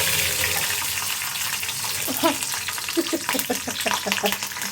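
Nigella seeds and chillies frying in a wok make a loud, steady sizzle with faint popping, and a run of light clinks and stirring scrapes joins in over the final seconds, with no talk.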